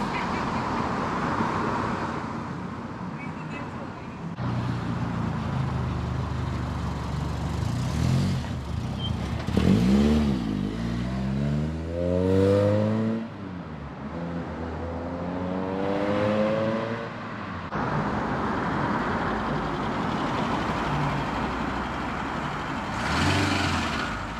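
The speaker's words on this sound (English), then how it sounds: "Late arrival, Sierra Cosworth." Ford Sierra Cosworth arriving at an outdoor car meet, its engine rising and falling as it approaches and moves past amid crowd noise and other vehicles, with a horn-like honk partway through.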